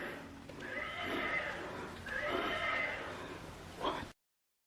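Two drawn-out electronic whinnies from a rocking horse toy, fairly faint and tinny, followed by a brief clip-clop-like click before it cuts to silence.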